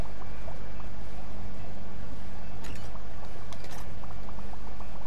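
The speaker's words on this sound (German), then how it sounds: "Das war die Pumpe." Aquarium pump running in the aquarium-building game Megaquarium, a steady bubbling, boiling-like water churn that fills the whole stretch at an even level, with a few brief brighter splashes near the middle.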